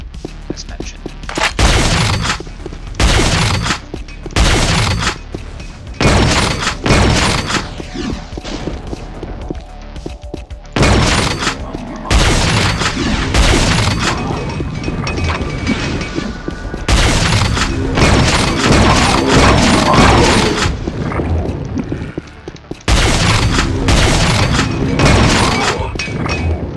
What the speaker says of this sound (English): I'll demonstrate the shredder here, which is flat cannon essentially